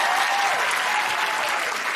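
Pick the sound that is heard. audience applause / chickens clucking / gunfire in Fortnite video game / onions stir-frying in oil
audience applause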